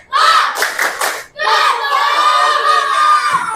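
Class 5A of schoolchildren performs a spirit clap cheer, a loud, close burst of rhythmic hand claps followed by a long, sustained group shout in unison.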